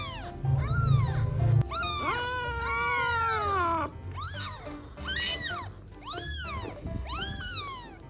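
A kitten meows repeatedly, loud and close, in a series of high, wavering cries, one drawn out long, with short pauses between them and a low rumble early on.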